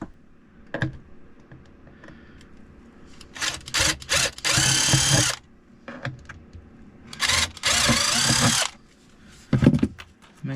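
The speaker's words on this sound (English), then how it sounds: "Get my drill." A power drill whirs in several short bursts between quieter clicks and handling noises, close up, each burst lasting a second or so.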